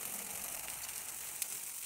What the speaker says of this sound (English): See the sizzle.